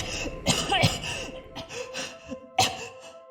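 A voice acts out harsh, strained coughing and gagging in a few ragged bursts, close and fairly loud, with short gasping pauses between.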